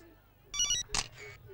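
A phone ringtone plays a short burst of bright electronic tones, followed by a sharper burst of noise and a softer trailing tone, all over a quiet background.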